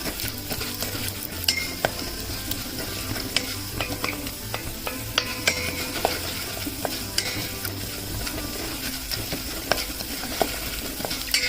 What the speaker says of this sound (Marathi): तांदूळ असं छान परतून घ्यायचा, तर ब्राऊन होईपर्यंत आपण त्याला परतून घेऊया।